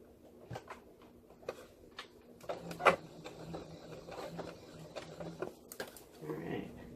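Sewing machine stitching fabric for a basic pillow, short quiet bursts of mechanical whirring and clicking separated by pauses, fairly soft and close.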